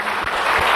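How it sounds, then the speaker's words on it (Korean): Congregation applauding during a church Sunday service, a short steady burst of dense clapping filling the room with no pauses. "영광의 박수를 하나님께 올립시다"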